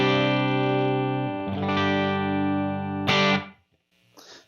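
A sustained Yamaha Revstar electric guitar chord on the bridge pickup rings out with a gritty, lightly overdriven tone, followed by a couple of short strummed stabs that cut off.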